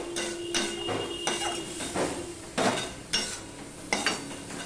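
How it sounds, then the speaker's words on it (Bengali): Leafy greens fry and get stirred in a pan, with repeated scraping and clattering of a utensil against the pan in an irregular rhythm over a soft background sizzle, close and moderately quiet. "এটা কিছু সময় আমি ভেজে নেব"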